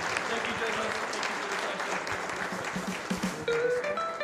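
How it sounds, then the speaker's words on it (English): Audience applause for the Next Sledge team at the 2025 President's Innovation Challenge: dense, steady clapping from a crowd fills the whole stretch, loud and close, with faint voices mixed underneath. "One more round of applause for next sledge."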